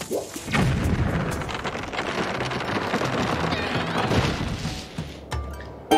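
Rumbling, crackling blast noise from a bomb in The Legend of Zelda: Skyward Sword on the Wii, a sustained roar with scattered debris patter that drops off sharply near the end.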